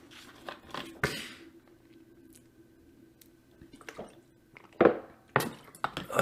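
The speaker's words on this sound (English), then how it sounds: "I take another drink of water" Someone takes a sip of water between stretches of talking: a few close, soft wet swallowing and mouth sounds with small drips and squishes, over a quiet room hum.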